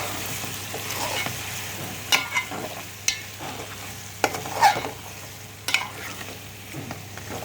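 Chicken frying in masala gives a steady low crackle at moderate level, broken by several sharp clinks of stirring in the pan, with no voices.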